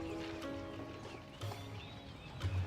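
Horsemen cavalry units in the strategy game Civilization 7 give off soft clip-clop hoofbeats and a faint horse snort, low and brief in the game's background mix.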